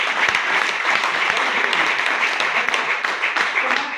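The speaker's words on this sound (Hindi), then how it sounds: "एक बार तालियां हो जाए हमारे लिए" A farmers' meeting audience claps steadily and loudly for the full four seconds, a dense, even wash of applause from a sizeable crowd.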